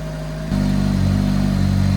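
A twincharged Yamaha Apex snowmobile engine idles at a high, steady speed close by, its loud drone with a strong low hum continuing evenly after a brief quieter moment at the start, with no talking.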